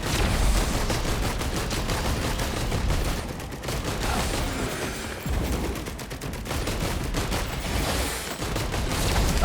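Gunner turret in Risk of Rain 2 keeps up rapid, continuous gunfire through the whole stretch, dense overlapping shots with game combat noise, loud and near, with no talk.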